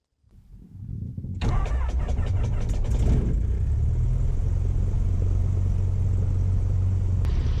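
Cessna 150 light aircraft piston engine starting up and settling into a loud, steady low drone, close and continuous with no talk.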